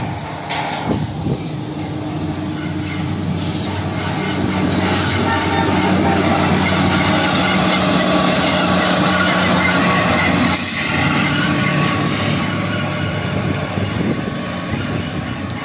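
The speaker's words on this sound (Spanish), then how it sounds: "Ahí se va el regulador de balastro 81 hacia patios o al escape." A KCSM ballast regulator, a railway track maintenance machine, rolls along the rails with a steady, loud broadband rumble and grinding that holds throughout, with no talking.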